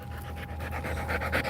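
A dog pants quickly and close by in a living room, a steady rhythmic huffing that runs for a moment with no voices over it.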